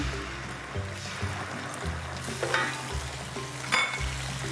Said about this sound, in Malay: yang ni pun kita kena tumiskan dia sekejap bagi tomato tu masak.